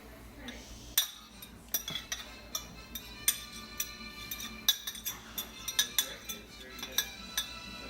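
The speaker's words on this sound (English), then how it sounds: "now I'm going to take the cilantro, which is the last ingredient, and mix it into the rice" A utensil gently mixes chopped cilantro into cooked cilantro ginger rice in a pot, making scattered light clinks and scrapes against the cookware with soft rustling between them. No one speaks.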